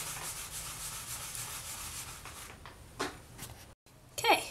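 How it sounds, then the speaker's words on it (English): Polymer clay faux stone is hand-sanded with sandpaper, grit by grit, in a quiet close-up, steady scratchy rubbing strokes that break off near the end before a few louder handling noises. "So I'll just sit here and sand from the lowest grit all the way up to the highest grit."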